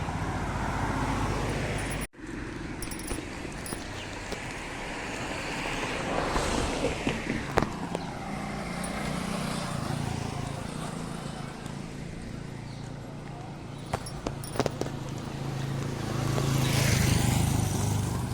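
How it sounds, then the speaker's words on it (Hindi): Steady roar of morning road traffic with cars, scooters and motorbikes passing along a street, a continuous broadband wash with occasional closer passes and a swell near the end, no talk. "हम देख सकते हैं कि काफ़ी सड़कों पर गाड़ियाँ, कारें और स्कूटी, बाइक वगैरह चलने लग गई है"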